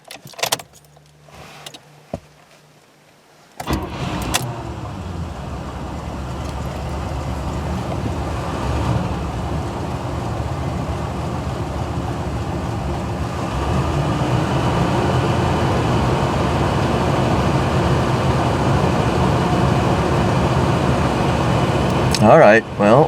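A GM engine with HEI ignition, fitted with a fresh cap, rotor, coil, module, plugs and wires, cranks and fires, then settles into a steady, loud, loping rough idle that sounds rich, close to the mic, with keys jangling at the start.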